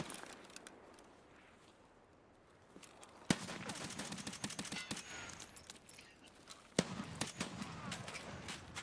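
Gunfire in a shooter video game: bursts of rapid shots and a couple of sharp louder cracks over a busy background of in-game noise, fairly quiet overall.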